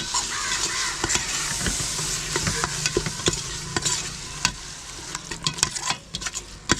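Yogurt is stirred into a thick, sizzling masala for Thalasseri mutton dum biryani, with a spoon scraping and clacking in irregular strokes over a constant close frying hiss.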